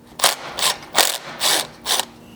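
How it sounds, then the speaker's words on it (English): A ratchet drives a 10mm socket to remove a clip beside the factory hitch receiver on a second-generation Toyota Sequoia rear bumper. Five close, loud bursts of clicking ratcheting come in an even rhythm, with no talk. "we can grab our 10mm socket once again and remove this clip"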